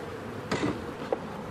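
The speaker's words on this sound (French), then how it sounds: "Il ne faudra pas embarquer toutes ces abeilles là parce que c'est un peu trop pour une nucléie de fécondation." Honeybees buzzing around an opened beehive while the hive bodies are handled, a faint steady hum with a couple of brief louder bursts near the middle.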